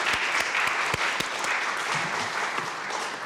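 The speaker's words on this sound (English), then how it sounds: "So let's give them a round of applause" A room full of people applauds volunteers at a local history talk, dense steady clapping with a few sharp nearby claps standing out, sustained evenly throughout with no speech.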